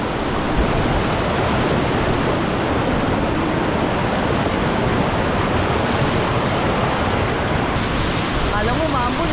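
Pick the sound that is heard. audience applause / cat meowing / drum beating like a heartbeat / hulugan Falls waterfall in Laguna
hulugan Falls waterfall in Laguna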